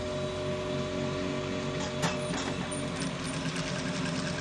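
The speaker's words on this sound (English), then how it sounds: "we sew from here down this way, and we'll stop at this point" Sewing machine running steadily as it stitches down the front panel of a senator top, a continuous close whirring motor hum with a faint needle rhythm, no talking.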